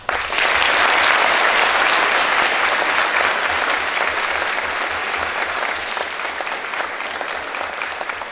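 Sustained audience ovation fills a hall in Leningrad, dense, loud clapping from a large crowd that holds steady throughout and tapers slightly toward the end.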